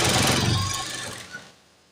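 Sewing machine stitching a plain blouse, a fast close mechanical chatter of the needle that winds down and stops within two seconds.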